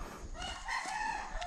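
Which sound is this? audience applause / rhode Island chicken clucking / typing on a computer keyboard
rhode Island chicken clucking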